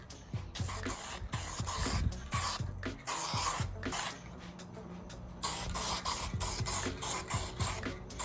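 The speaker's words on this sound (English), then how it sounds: "throw like light coats of primer" Primer sprayed from a rattle can onto a truck part in short hissing bursts, with can clicks and handling knocks between passes, fairly close and with no talk.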